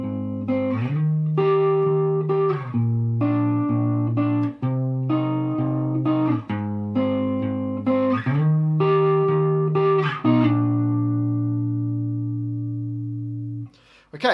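An effected, slightly distorted guitar plays the intro of a song: repeating picked note phrases in a steady rhythm, then a final note left ringing out to the end; close and clear, with no talk.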